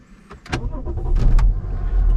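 A 2008 BMW X6 40d diesel cranks and catches, a short starter whir followed by the engine firing and settling into a rough, low idle that stays loud and close to the end.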